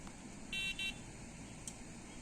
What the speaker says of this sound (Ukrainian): Сигналізатор працює.